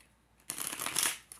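A short burst of crisp papery riffling as a deck of tarot cards is shuffled up close, lasting under a second after a quiet start.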